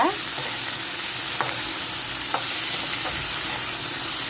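Curry leaves frying in a pan, a loud, steady hiss of hot oil with a few light scrapes of a spoon spaced about a second apart, close up and without voices.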